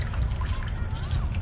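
A purebred South Poll cow drinks from a water trough on a warm afternoon, giving soft, continuous trickling and lapping water sounds over a low background rumble.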